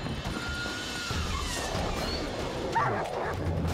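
Dogs in The Witcher 3 video game barking and yipping in short bursts over a busy, rumbling game soundscape, moderately loud and fairly close.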